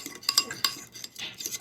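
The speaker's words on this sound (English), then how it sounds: "Just kind of whisking it together here." A utensil whisks sour cream dipping sauce ingredients in a bowl, giving quick close clinking taps and scraping strokes in an uneven rhythm, with no voices.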